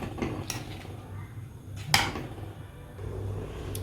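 A few soft metallic clinks, then one sharper clank as a lid settles onto a pot of simmering fish curry, with a low hum of cooking underneath.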